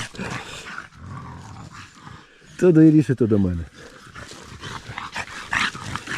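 Dogs break into a short, loud burst of barking and growling in the middle while people talk before and after.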